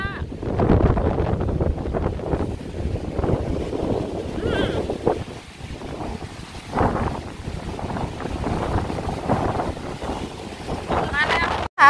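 Strong stormy wind batters a tent campsite in Brienz, Switzerland, roaring and buffeting the microphone in continuous gusts for about twelve seconds, with a voice talking intermittently underneath.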